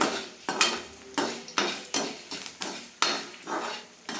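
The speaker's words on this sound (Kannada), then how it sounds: "ಒಣಮೆಣಸಿಕಾಯಿ ಹಾಕ್ತಾಯಿದ್ದೀನಿ. ಈ ಥರ ಕಲರು ಚೇಂಜ್ ಆಗಂಟ್ಲು ಸುಮ್ಮನೆ ಉರಿತಾನೆ ರೀ." Dry red chillies being tossed in hot oil for tempering in a pan, repeated metallic scrapes and clanks of a spoon against the pan at a steady rhythm over a faint sizzle, close and fairly loud.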